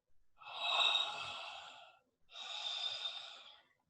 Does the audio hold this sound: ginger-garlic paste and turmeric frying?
no